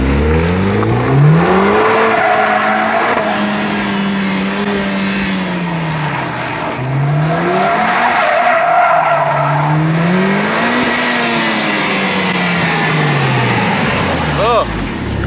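An all-wheel-drive car drifting, its tyres squealing and skidding in long rising and falling wails over a loud, steady engine roar, close and continuous.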